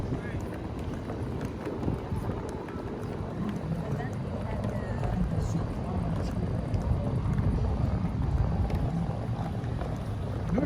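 Wind blowing across a seaside boardwalk at night, a continuous rough rushing and buffeting that grows slightly stronger, with voices and crowd murmur mixed underneath.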